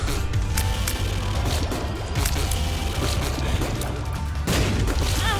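Exploding shots fired in The Binding of Isaac Rebirth burst loudly and repeatedly, with dense crashing booms and sharp impacts layered over constant game sound.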